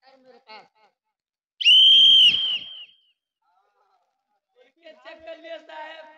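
A sharp, loud whistle blast lasting about a second during a live folk nautanki stage performance, set between stretches of voices talking on stage.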